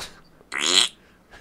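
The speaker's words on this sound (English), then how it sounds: "I fart pretty loudly as I walk through" Loud, rasping fart lasting about half a second, close and clear, with a quieter voice murmuring before it and at the end.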